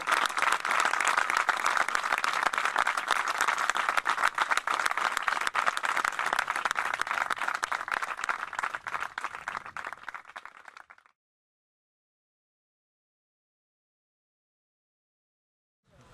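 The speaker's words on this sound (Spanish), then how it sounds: "Y yo pido un fuerte aplauso para las tres." An audience at an antifascist gathering in Petrer applauds warmly for three imprisoned women, a steady dense clapping for about eleven seconds that then stops abruptly into silence.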